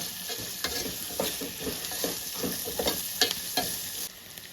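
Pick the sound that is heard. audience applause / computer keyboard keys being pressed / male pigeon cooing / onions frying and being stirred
onions frying and being stirred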